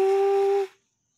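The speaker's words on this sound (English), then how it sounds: "I know that whistle." A steady, tonal train whistle blows loud and clear for about half a second, then cuts off abruptly into silence.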